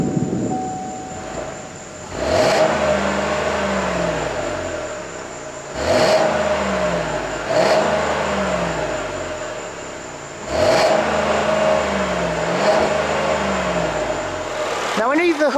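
A 2017 GMC Acadia Denali with its all-new 3.6-liter direct-injection V6 accelerates in repeated surges, the engine note climbing through several gear pulls at close range with steady road and wind noise beneath.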